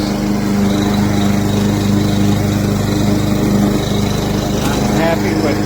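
A PowerSmart 21-inch gas lawn mower with a Briggs & Stratton engine runs steadily and loudly nearby, its constant engine drone filling the whole stretch without breaks.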